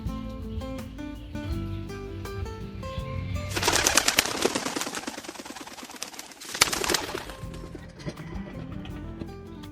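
Tippler, Pakistani Highflyer and racing pigeons coo with low repeated calls, joined midway by a loud burst of flapping wings and rustling close by.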